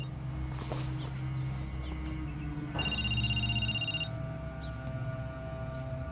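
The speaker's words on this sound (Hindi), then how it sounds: "तभी मेरी माँ का फोन आया" A telephone rings once with a bright, electronic trill lasting about a second, heard over a low indoor hum and faint background sounds.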